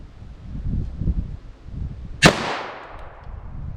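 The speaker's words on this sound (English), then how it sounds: "22 long rifle. Let's see how this does." .22 LR pistol fired once into ballistics gel outdoors in wind, a single sharp, loud crack with a brief ringing tail, following low, gusty wind rumble.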